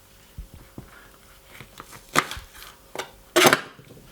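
Knife chopping spring onions on a cutting board, a handful of sharp irregular thuds and cuts, the last ones louder and crisper, with quiet gaps between.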